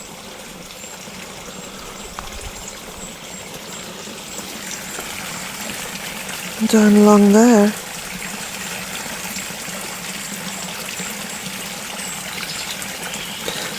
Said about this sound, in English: You can really hear the sound of the water now